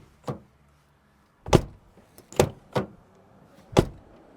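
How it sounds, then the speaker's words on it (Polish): Doors of a JAC T8 Pro pickup truck shutting in several sharp, close thuds spaced across a few seconds, with near silence between them. "Drzwi są bardzo lekkie i zamykają się z niezłą kulturą."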